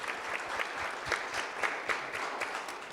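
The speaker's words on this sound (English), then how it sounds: "Let's give them a round of applause." An audience at a mental health panel applauds two student athletes, steady dense clapping filling the space at moderate volume with no talk over it.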